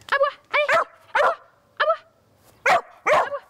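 Pet dog named Flocon barking in a home setting, six sharp separate barks spaced roughly half a second apart, close and clear with no talk over them.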